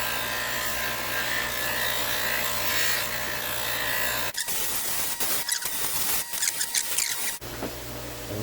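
A buffing wheel spins against trim coated in polishing compound, a steady close whir that breaks into uneven scuffing and grabbing sounds as the piece is pressed to the wheel, then settles back into the smooth hum.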